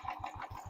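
A motorbike engine fires up on its self-start button and settles into a steady, pulsing idle, close and fairly quiet, with no talk over it.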